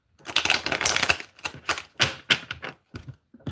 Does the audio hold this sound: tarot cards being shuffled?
yes